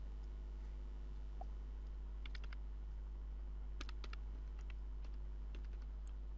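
Faint, scattered keystrokes on a computer keyboard tap out a short answer in a few irregular clusters over a steady low hum, with no talking.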